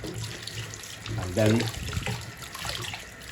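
Tap water runs steadily into a sink during quick cleaning, a broadband wash that lasts the whole stretch and swells briefly midway, with a person talking over it.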